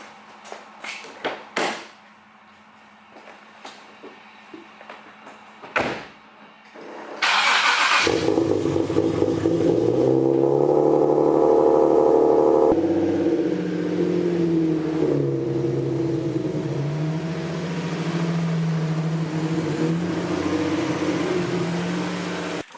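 A Nissan 370Z with its stock mid pipe and factory resonators starts up after a few clicks and thumps. The exhaust then settles into a loud, steady idle close by, with a slight rise and fall in pitch.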